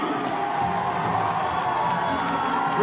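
Stadium spectators at a Fiji versus Portugal rugby sevens match at the 2015 Scotland 7s roar after a try, a steady, fairly distant wash of cheering and shouts.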